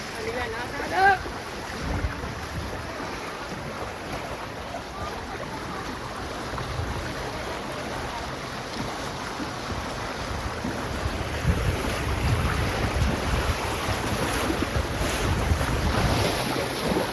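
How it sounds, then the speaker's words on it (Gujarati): Floodwater rushes down city streets like a river in Surat, surging continuously, mixed with gusty wind buffeting the microphone; the flow swells louder toward the end. "રસ્તાઓ પર પાણી જાય ને નદી જાય એની જેમ પાણી જાય, નદીની જેમ પાણી જાય"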